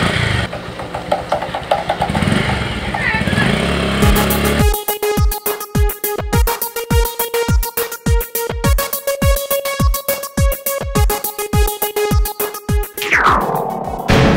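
A motorcycle engine roars briefly, then settles into a loud, close, rapid rhythmic idle with a faint whine of something moving at the very end, no talking.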